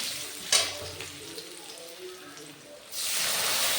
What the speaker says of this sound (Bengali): গরম মশলাটা ফোড়ন হয়ে গেছে।